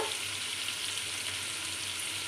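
Onions frying in oil in a pan for white pea pulao, a dense, even sizzle heard close and steady with no talking.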